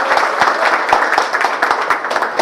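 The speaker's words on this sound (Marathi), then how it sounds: "आता एकदा जोरात टाळ्या वाजव यांच्यासाठी" Audience clapping at a local ceremony honouring COVID warriors, a dense, loud burst of applause from a crowd that holds steady throughout.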